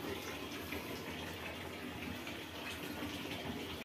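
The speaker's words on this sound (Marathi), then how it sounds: "अजूनही पाणी भरण्याची कसरत चालू आहे." Water runs from a tap into storage containers, a steady, dense rushing flow that stays constant at close range with no voices.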